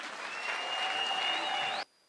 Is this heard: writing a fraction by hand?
no